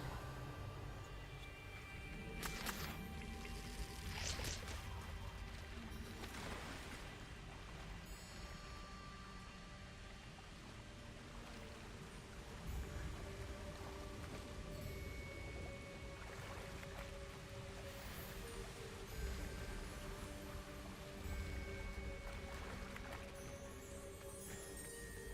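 A waterfall in Hogwarts Legacy gives a steady broadband rush of falling water that holds at an even level for the whole stretch, with no talking over it.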